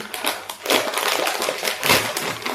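Sweet-pepper-flavored Tiger potato chips are crunched hard and close to the mouth, a dense run of crackling bites with louder bursts, no talk.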